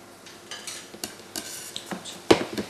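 A fish is set on a cutting board and handled with a sharp knife in a Sicilian kitchen, producing scattered soft taps, scrapes and one sharper knock, fairly close and quiet with no talking.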